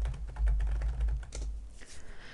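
Rapid keystrokes on a computer keyboard while a database query is entered, an irregular run of close, light clicks with no talk over them.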